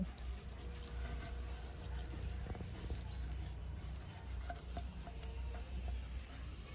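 Tomato juice is rubbed into rust on an old knife or bonti blade, producing a faint, steady scrubbing rub with a few small clicks, close but quiet, without talking.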